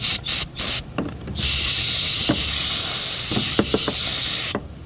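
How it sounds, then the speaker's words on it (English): Aerosol spray can spritzing in short hissing bursts, several quick puffs and then one longer sustained spray, close and loud, during a timing belt job on a 2014 VW Jetta 2.0L. "Give it a little spritz now."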